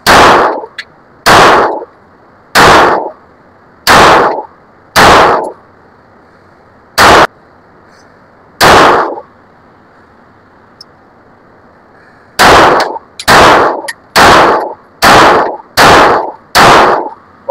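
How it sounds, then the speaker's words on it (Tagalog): An Armscor STK100 pistol fires reloaded ammunition at a range, sharp loud single shots spaced about a second apart, a short pause, then a faster string of six shots, close to the listener. "Okay, firing!"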